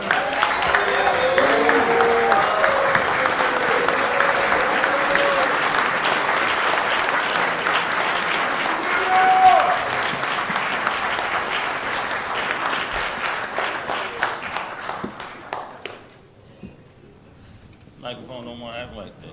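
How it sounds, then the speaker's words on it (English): Sustained applause from an audience at a street-naming ceremony honoring Allen Iverson, loud and dense with scattered voices, then thinning out and fading near the end. "Can we please give a warm round of applause and stand to our seats, please, for Boo Williams."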